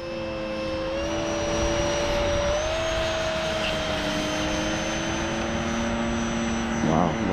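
An FMS F/A-18F Super Hornet RC model jet takes off right to left, its electric ducted-fan whine loud and steady, pitch rising and shifting as it accelerates down the runway, with faint outdoor background.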